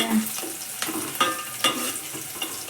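Cumin seeds and garlic frying in hot oil for a fenugreek-leaf dish, a close crackling sizzle punctuated by a few quick spoon scrapes against the pan, with no voices over it.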